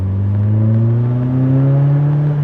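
A BMW M3 E30 Sport Evolution engine revs steadily while driving, a loud, close mid-pitched drone with harmonics climbing gradually as it accelerates, with no talk over it.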